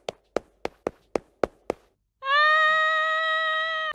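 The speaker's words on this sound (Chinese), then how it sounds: "这个叫声原来是小猫叫啊！" A kitten meows in a video game: seven sharp, evenly spaced taps, then one sustained, steady, tonal meow that holds for over a second.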